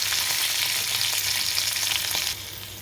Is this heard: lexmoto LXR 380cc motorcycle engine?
no